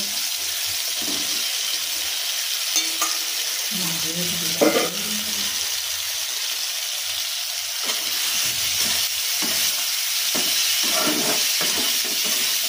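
Soybean chunks are tossed into spiced potato masala in a hot pan, giving a steady close sizzle with stirring, a brief clatter of a utensil partway through, and the frying continuing to the end.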